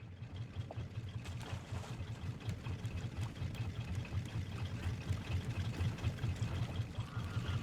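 Raft engines in a video game chug as a steady, low rumbling motor drone with a rapid pulsing rhythm, continuous and moderately quiet with no talk.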